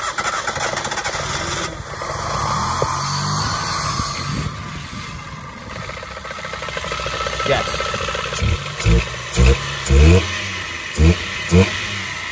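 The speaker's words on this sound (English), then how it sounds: "next thing is see if it runs" A Citroen C1 engine fitted with bigger injectors runs with its airbox off, idling roughly and then taking several sharp, close throttle blips near the end.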